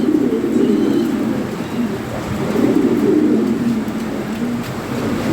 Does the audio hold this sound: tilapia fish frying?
no